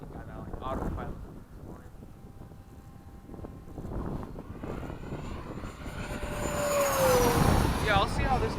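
Freewing 90mm F-22 RC jet flies overhead in cloudy, windy conditions, a steady whooshing engine roar that rises toward the end amid wind buffeting, with people talking nearby.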